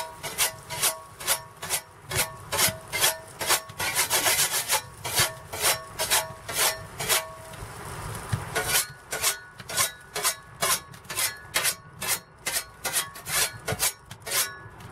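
A garden spade blade is sharpened with a file or rasp in steady back-and-forth strokes, each rasping scrape loud and close, with a brief flurry of faster strokes midway and no speech.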